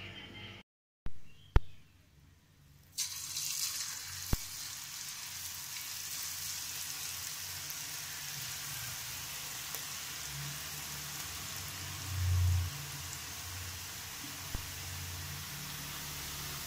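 Ribbon pakoda dough fries in hot oil with a steady, hissing sizzle that holds evenly for a long stretch after a few brief knocks at the start, with no one speaking.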